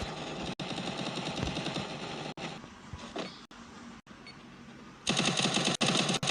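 Rapid automatic gunfire bursts from the video game Garena Free Fire, loud and dense, with brief pauses and a sharper, brighter volley near the end.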